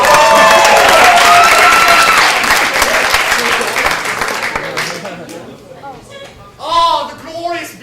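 A large audience in London bursts into loud, dense applause with some cheering, which fades after a few seconds into a quieter room where a voice speaks.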